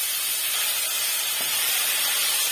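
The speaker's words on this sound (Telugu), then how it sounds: "ఆ మిగిలిన నూనెలో పెట్టి వాట్ చేసుకోవాలి." Sorrel leaves (chukka kura) sautéing in leftover oil give a dense, even, hissing sizzle, bright and close, holding steady without pause or speech.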